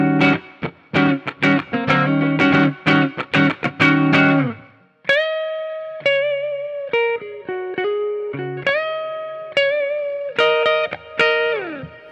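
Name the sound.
Gibson Hendrix 1969 Flying V electric guitar, clean neck pickup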